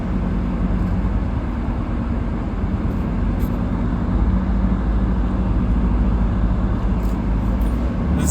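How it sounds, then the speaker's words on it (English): A car being driven produces a steady low road-and-engine rumble from inside the cabin, continuous and even for the whole stretch with no voices. "This is still recording because I'm driving a car."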